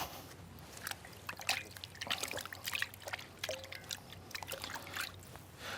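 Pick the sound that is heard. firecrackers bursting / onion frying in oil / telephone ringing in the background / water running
water running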